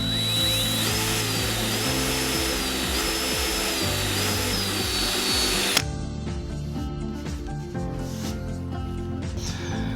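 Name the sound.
power drill drilling hole in wooden desk leg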